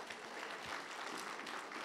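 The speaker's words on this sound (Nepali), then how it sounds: "ताली बजाएर पठाउ," A church congregation applauds during an Easter service, a dense, continuous wash of clapping heard from a distance, fairly soft and steady, with no voices on top.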